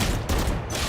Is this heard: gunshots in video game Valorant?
yes